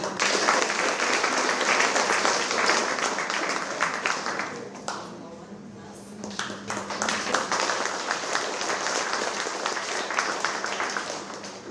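An audience at a Bulgarian children's competition award ceremony applauds loudly and steadily, with a brief dip in the middle before the clapping swells again.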